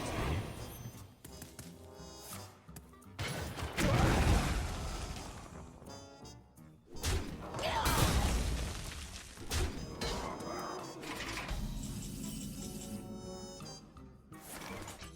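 A thrown barrel explodes in a video game, with heavy booming blasts and crunching debris rising twice over a busy backdrop of game music and effects, each burst swelling loudly then settling.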